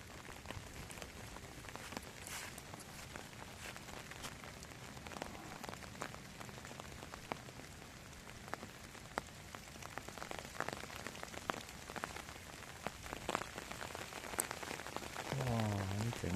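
Steady rain falls outdoors on a walk toward an art museum in Japan, a continuous close hiss of drops pattering on surfaces with no break for the whole stretch.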